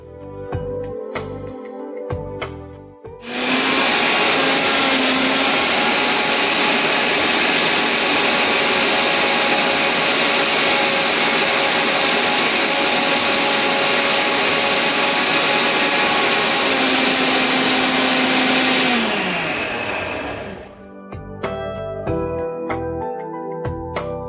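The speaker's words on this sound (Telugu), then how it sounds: "దీన్ని మనం మిక్సీ పట్టేసుకుందాం." A mixer grinder blends spinach with water for a palak tofu curry, a loud, steady motor whine running about seventeen seconds before winding down, with no talk over it.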